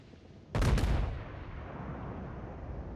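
Naval guns boom in a video game battle at sea, a single loud double-blast volley that hits hard and then fades into a sustained rumbling tail with no talking.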